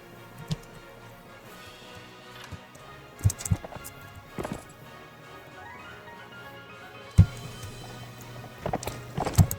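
Horse hooves clip-clop in sporadic bursts amid quiet ambience in the video game Gensokyo Warfare, with a few louder thudding hits between calmer stretches.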